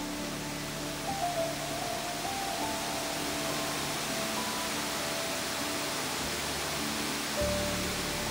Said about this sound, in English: Nelson Falls is a breathtaking waterfall and a must-do in the West Coast Tasmania.